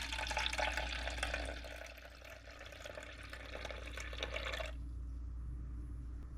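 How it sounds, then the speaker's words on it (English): Water pours steadily into a small amount of milk in a kitchen pot, a loud splashing gush for several seconds that cuts off and leaves a low background hum. "I'm going to add water to what little bit of that air quotes milk that we have in there"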